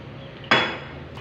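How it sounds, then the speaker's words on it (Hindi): Beef pieces go into a pot of hot oil with lightly browned onions for korma: one sudden loud clatter-sizzle burst that fades over about half a second, then quiet. "अब डालेंगे गोश्त, इसकी यखनी भी साथ ही डाल देंगे और फिर मसाले ऐड करते हैं।"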